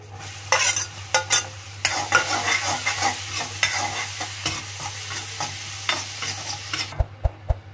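Garlic and onion frying in hot oil for a masoor dal tadka, a steady close sizzle with frequent spoon stirring and scraping against the pan, ending in a few sharp taps of the spoon on the rim, no talking.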